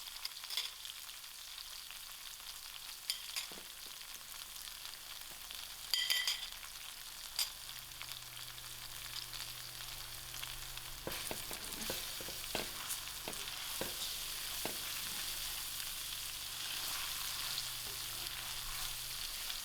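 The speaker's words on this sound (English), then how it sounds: "Now that I allowed my spices to fry" Spices frying with ginger and garlic in a pan for a lentil curry, a quiet steady sizzle with occasional spoon scrapes and clinks, close and faint.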